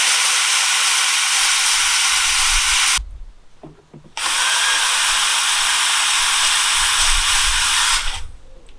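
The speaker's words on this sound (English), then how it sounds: "I guess the water is done, steam's running out" Steady broadband hiss of a steamer running out of water while bending bonsai deadwood, cutting out for about a second midway, then resuming loud and continuous before stopping near the end.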